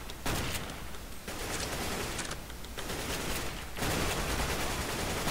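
Shotgun blasts in a first-person shooter, several loud booming reports in rapid succession, each leaving a dense roaring tail, with almost no gap between shots.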